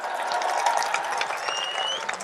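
An audience at a Hindi kavi sammelan poetry gathering claps steadily throughout, a dense continuous patter with faint crowd murmur beneath it.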